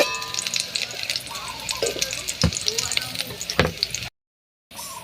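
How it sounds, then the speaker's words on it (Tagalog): Garlic sizzles in hot oil in a pan over a charcoal fire, a close, steady crackle with occasional stirring scrapes, then a brief silent gap before the frying resumes. "So, naglagay tayo ng oil tapos garlic."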